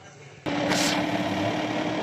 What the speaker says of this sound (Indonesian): Mesin kita hidupkan.